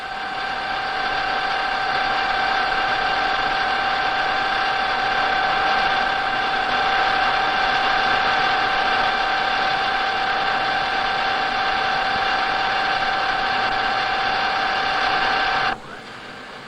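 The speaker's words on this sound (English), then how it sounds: "This hydraulic profiling attachment enables the standard lathe to be converted simply and cheaply to a copying lathe." A Colchester lathe with a hydraulic profiling attachment runs steadily, a constant mechanical hum with a high whine sustained for about fifteen seconds, then drops abruptly to a quieter level near the end.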